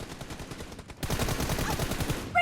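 Automatic gunfire in the mobile shooter PUBG Mobile comes in rapid, evenly spaced bursts of shots, moderately loud at first, then denser and louder after a brief gap.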